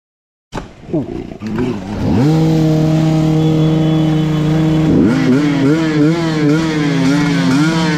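A car engine revving in a forest, a loud, close, sustained growl that rises, then holds a steady wavering drone for several seconds.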